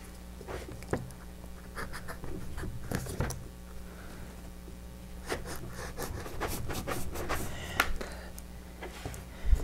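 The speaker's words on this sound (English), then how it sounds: "We're going to continue cutting our wine corks." Knife cutting through wine corks lengthwise for a chalkboard slate cheese plate, a series of short scraping, rasping strokes with scattered clicks and taps, close and moderately quiet, no talking.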